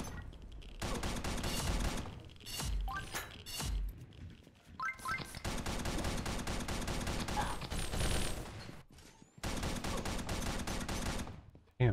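A plasma rifle in Pixel Gun 3D fires fast, continuous bursts of loud shots, broken by short pauses, with brief zapping tones between the strings of fire.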